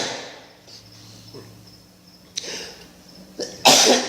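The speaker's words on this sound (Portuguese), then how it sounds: "Ixi, estou querendo espirrar." A man sneezes during a sermon, with a few faint sniffs and breaths leading up to a sharp, loud burst at the end.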